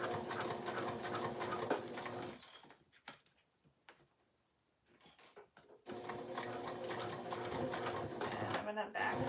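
A sewing machine stitches the seam of a fabric pouch in long, steady runs with a brief pause midway. A person talks over the whirring motor.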